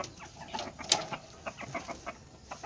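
A bantam hen clucks and cackles in short, uneven bursts, fairly faint, over a quiet outdoor background.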